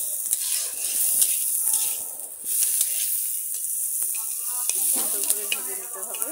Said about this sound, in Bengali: সুন্দর করে ভেজে নিতে হবে।